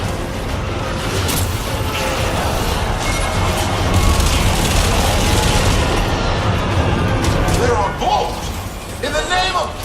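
Turret fire in the Warframe Railjack video game, a sustained barrage of booming blasts and crashing impacts rumbling loudly for most of the stretch, thinning near the end, with game dialogue over it.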